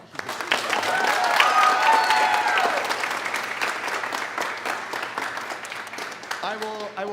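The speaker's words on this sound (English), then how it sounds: "We can give her a round of applause." An audience at a school concert evening applauds a teacher who is about to direct the next number; clapping swells quickly, peaks loudly, then gradually thins, with scattered voices and a brief tonal sound near the end.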